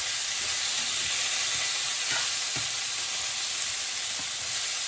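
Green beans being stirred in a pan with garlic confit, a steady loud sizzle and hiss, with a few soft scrapes of the spoon against the pan.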